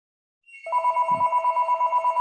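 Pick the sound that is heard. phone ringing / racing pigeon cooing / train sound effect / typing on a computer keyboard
phone ringing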